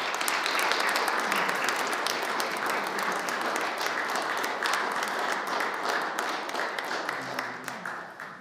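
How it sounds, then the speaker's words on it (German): Sustained applause from an audience after a lecture at a technical conference in a technology museum, many hands clapping densely and close, holding steady before tapering off at the end. "Applaus"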